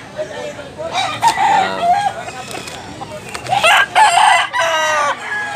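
Roosters and chickens of sweater and tornado breeds at a hatchery in Tabunok, Cebu, crow and cluck loudly and close by in overlapping calls, with people talking in between.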